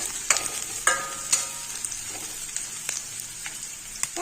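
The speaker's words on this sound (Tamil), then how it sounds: "ஒரு அரை வதங்கு வதங்கினா போதும் வெங்காயம்" Onions sautéing in a pan for cabbage rice: a steady close sizzle with sharp scraping clicks of a spatula stirring at irregular intervals, no voices.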